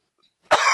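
A single harsh throat clearing, close and fairly loud, following a moment of silence.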